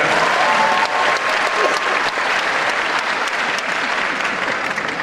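A comedy show audience applauds loudly and continuously, a dense wash of many hands clapping that fills the hall with a faint murmur of crowd underneath.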